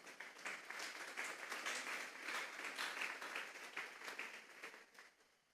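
During a church sermon, a congregation applauds the Lord with a steady, dense clapping that sounds soft and distant and tapers off at the end.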